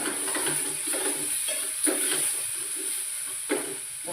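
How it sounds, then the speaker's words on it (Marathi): Onion and tomato sauté in a pan with a little turmeric and salt, giving a steady close sizzle and hiss with soft scraping stirs now and then. "थोडीशी हळद टाकूया आणि चवीनुसार मीठ टाकूया परतून घेऊया"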